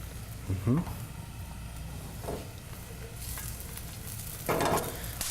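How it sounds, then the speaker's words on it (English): Meat searing in oil in a pan for lomo saltado, a steady close sizzle with a couple of louder bursts as pieces shift, while a voice murmurs in the background. "We'll add a little bit more oil to the pan to cook the meat, sear it."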